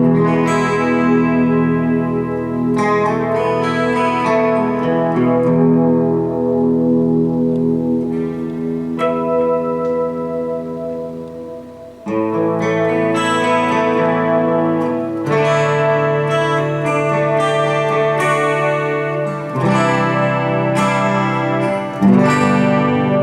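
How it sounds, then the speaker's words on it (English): Electric guitar run through a Boss GT-1 multi-effects unit with chorus, a 400 ms analog delay and plate reverb, fed into a Marshall MG100DFX effects-loop return; lush, shimmering chords and notes ring out loud and continuous, trailing echoes, no talk. "So as you can hear here, it's a nice, lush, chorusy sound."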